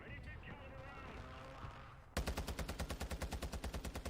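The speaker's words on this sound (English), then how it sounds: "firing in there with my attack V that has got no recoil control whatsoever" Rapid automatic assault rifle fire in the Warzone 2 video game, a burst of about fifteen sharp, evenly spaced shots that starts abruptly after a stretch of quieter game ambience and voice.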